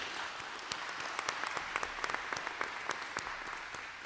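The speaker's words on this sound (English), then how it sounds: "Give yourself another round of applause." At a state education board meeting, a smaller room audience claps in a quiet, uneven patter, with individual handclaps standing out sharply at close range.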